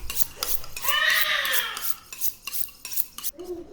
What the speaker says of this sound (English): Ran my knife over the steel.